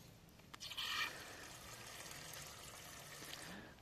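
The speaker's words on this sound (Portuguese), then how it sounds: "A água para as galinhas com boia." Water runs steadily into a chicken waterer fitted with a float valve on a rural smallholding. The flow makes a faint, continuous hiss and trickle with a brief louder splash near the start.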